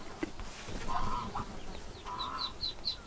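A mother hen makes soft, low clucking calls inside a poultry enclosure with chicks, a few short bursts at moderate distance, with faint high chirps of chicks scattered through.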